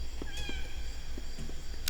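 A cat meows close by, a short rising mew over a steady low hum and faint background noise, with a few soft knocks around it.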